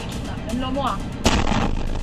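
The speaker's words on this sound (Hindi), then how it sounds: "हाईवे पर दौड़ती कार के डैश कैम में ईरान का मिसाइल अटैक कैद हुआ है।" An Iranian missile strike explodes near a highway in Ashdod, caught by a moving car's dash cam: steady road noise, then a sudden loud blast about midway that leaves a sustained heavy rumble.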